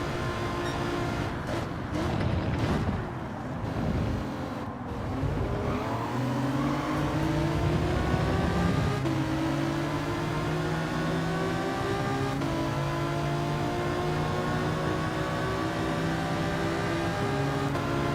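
Race car engine in Gran Turismo 7, loud and continuous, its pitch climbing through repeated gear shifts as the car accelerates along the track with other cars nearby, no talk over it.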